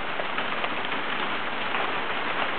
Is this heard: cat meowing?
no